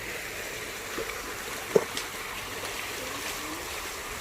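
Water flowing from a hidden spring at Little Baguio, a soft continuous babble and trickle at low level with a few faint splashes.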